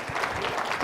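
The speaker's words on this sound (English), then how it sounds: "How about a brief round of applause for Omaha Publications" Dense, steady applause from an event audience, honoring a local publisher, fills the short moment at close range with no pauses.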